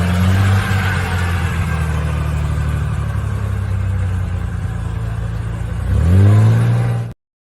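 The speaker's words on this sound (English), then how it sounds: "1957 Mercedes convertible" A 1957 Mercedes convertible engine rumbles steadily and loudly up close, then revs up sharply near the end before cutting off abruptly.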